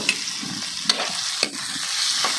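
Shrimp and liver stir-frying with onion and garlic in a pan, a steady close sizzle with a few sharp clicks of a spatula against the pan, no voices.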